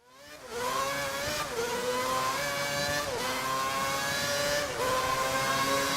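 F1 race car engine from the F1 video game on a qualifying flying lap, a loud, steady high-pitched scream rising through the gears with brief dips at each upshift, close and continuous with no talk.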